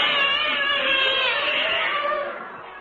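Many cats yowl and caterwaul together in a loud, wavering chorus for a comedy radio sound effect, sustained before tapering off at the end.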